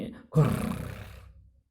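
A bear roaring in a forest to protect a cub, voiced by a person imitating the sound: one short, rough, growling roar that swells quickly and then fades, alone and close.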